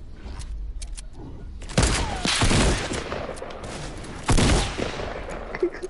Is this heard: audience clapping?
no